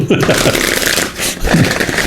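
Tarot cards riffle and slide in a continuous papery rustle, close up, with a brief voice sounding over the shuffling.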